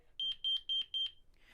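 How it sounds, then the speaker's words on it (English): Interlogix Simon XTi alarm panel piezo sounding its arming countdown: four evenly spaced pairs of sharp, high beeps, loud and close, with no voices. "it's also going to keep beeping the whole countdown time"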